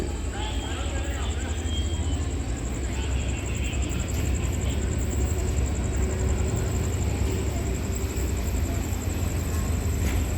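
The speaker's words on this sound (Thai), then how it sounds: "ไฟรถจักรเริ่มมาแล้วนะครับรถจักรวิ่งมาในชันชลาที่ 4 นะครับ" A diesel locomotive rumbles in steadily to platform 4 at Lopburi station, Thailand, with a deep, continuous engine drone and a high whine, while voices murmur faintly under it.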